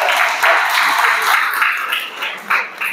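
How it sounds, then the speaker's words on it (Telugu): An audience claps together at an ordination anniversary celebration in a church gathering, a dense, uneven burst of applause lasting a few seconds with some voices mixed in. "అందరం కూడా గట్టిగా చప్పట్లు కొడదాం."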